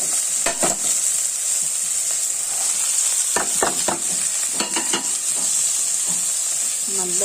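Green chillies and onion fry in a pan for mushroom cutlets, giving a constant hissing sizzle with a few crisp spatula scrapes and knocks as they are stirred close by.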